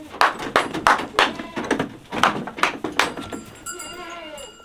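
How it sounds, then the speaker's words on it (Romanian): A billy goat bleats repeatedly, calling after a she-goat taken away on a farm, with several loud, close cries in quick succession, then softer, higher wavering calls near the end. "Deja îi pare rău la țap că am luat capra de acolo. Deja plânge după ea."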